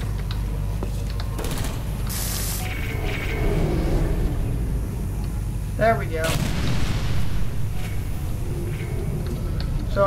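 Portal 2 turret being destroyed by a laser in the game, heard as a dense rumbling drone with bursts of mechanical rattling and sharp clicks, fairly loud and continuous.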